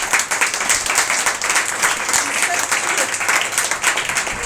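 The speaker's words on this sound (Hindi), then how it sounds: "तो क्यों ना ऐसे प्रेमी के लिए हम ताली बजाकर उसकी आराधना करें।" A congregation claps together in worship at a church service, a dense, continuous roar of applause that stays loud and even, with voices mixed faintly underneath.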